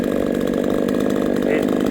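Neotec NCS6800 68cc gas chainsaw cutting through wood on its first run with an off-brand chain. Its engine holds a steady, loud, high buzz close by for the whole moment.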